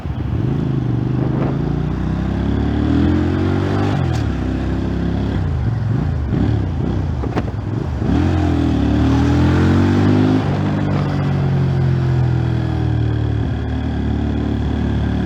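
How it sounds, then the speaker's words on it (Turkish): Exhaust note of a Musatti Milano S400 motorcycle while riding. The engine rises and falls through gear changes, with revving sweeps and steady mid-pitched drone heard up close for about fifteen seconds without talk. "böyle egzoz sesine diyecek yok"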